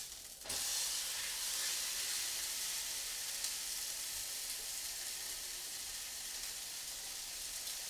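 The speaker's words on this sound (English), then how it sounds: "You can hear the sizzle, looking good, smelling better." Meat sizzles in sesame oil in a hot pan, with a steady, loud frying hiss that starts abruptly and carries on evenly with no talking.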